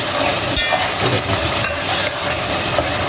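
Turmeric, chili, coriander and garam masala fry in a hot pan for a chicken and bitter gourd curry, giving a loud, steady hiss and sizzle throughout with a few sharper crackles.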